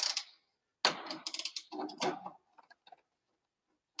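Metallic ratcheting from a wrench tightening a bolt on a Polaris XLT snowmobile: several short bursts of quick clicks, close and fairly loud, separated by pauses and fading into sparse ticks.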